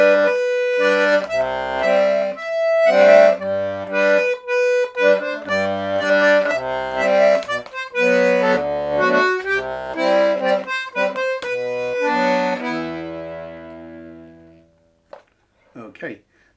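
A D/G melodeon plays the folk tune Wraggle Taggle Gypsies solo, with reedy chords, bouncy bass-button accents, and a steady rhythm, ending with a held chord that fades, then a brief handling click.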